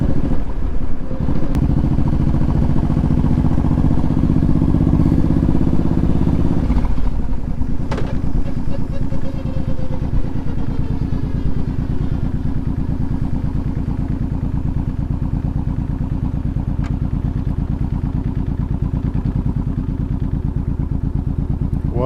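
Honda VTX1800 motorcycle engine while riding: a loud, continuous low rumble of the engine close by, with a deeper throaty surge early on that eases to a steadier cruising drone, plus wind and road noise throughout.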